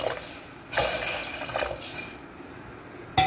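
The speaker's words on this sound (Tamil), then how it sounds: "அந்த தண்ணியை இப்போ மட்டும் சேர்த்துக்கிறேன்" Water poured into a cooking pot while making black kavuni rice porridge, a splashing gush that starts abruptly, runs for a couple of seconds with a second surge, then fades to a faint trickle.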